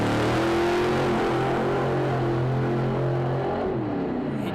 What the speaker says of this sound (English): He definitely didn't hear that engine note change there.